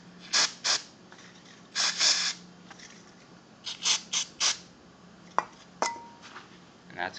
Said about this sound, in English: Just take your carburetor spray and spray.